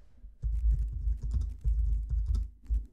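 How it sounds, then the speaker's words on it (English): Typing on a Mac computer keyboard, close and distinct, with bursts of quick key clicks separated by brief pauses, no voices. "So I would type"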